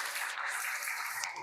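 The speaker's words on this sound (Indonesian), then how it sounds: "Oke, beri tepuk tangan dulu." Faint, even applause from students in a classroom, a soft continuous patter of hands with no talk on top.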